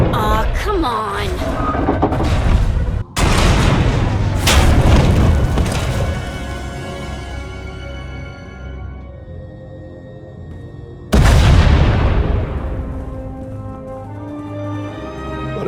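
Two loud, booming explosions in the video game Star Wars: The Old Republic, each ringing out into a long rumbling decay, the second arriving after a stretch of fading echo.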